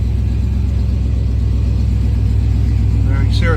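Car engine just fitted with an ACES Killshot Black Jack EFI distributor runs at a steady, loud idle, a continuous low rumble close to the listener.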